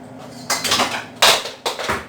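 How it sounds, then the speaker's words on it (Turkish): A metal ladle drops onto the floor of a small kitchen while onions are frying, giving a few sharp, loud clanks and rattles close by. "kepçe düştü yere"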